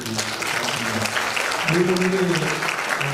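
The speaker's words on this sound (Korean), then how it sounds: "박수 한번 해주시죠" A hall full of people claps steadily for standing church officers at a Christian association inauguration and New Year gathering in Incheon, the dense, even applause filling the whole stretch while a low voice hums beneath it.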